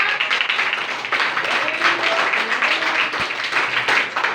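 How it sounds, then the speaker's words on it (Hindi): Children in a classroom clap for themselves in a steady, dense round of applause that fills the whole stretch, with faint voices mixed in. "अपने लिए फिर दोबारा ताली बजाइए दोनों"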